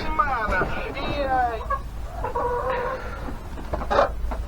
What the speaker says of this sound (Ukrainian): Кури наші вже ходять, лазять молоді.